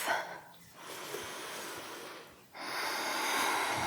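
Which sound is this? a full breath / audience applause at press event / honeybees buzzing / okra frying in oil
a full breath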